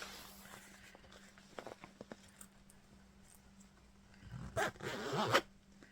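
A zipper is pulled closed around a tightly packed pocket on a Lug Wander bag, giving a close, rasping zip near the end after quieter handling rustles.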